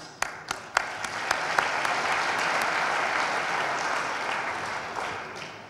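An audience applauds the organizing committee: a few scattered claps first, then steady, even applause filling the room and slowly tapering off.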